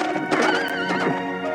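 A horse neighs in an old-time radio drama, a loud, wavering whinny with hoof clip-clops mixed in. The sound is close and continuous, with no talk over it.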